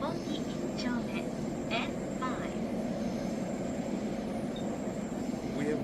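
Inside an underground subway train in Japan, a steady rumbling roar of the moving carriage fills the space, with faint high squeals of wheels and occasional distant murmurs of voices.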